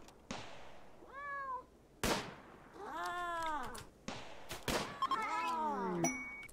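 Cats in a video game meow several times in separate, rising and falling calls, close and clear, punctuated by sharp clicks and thuds from the game between them.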